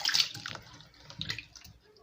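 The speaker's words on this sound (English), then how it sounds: "And wash it very well." Soursop fruit being washed under running water, a soft splashing flow that swells and fades over about two seconds, close by with no talking.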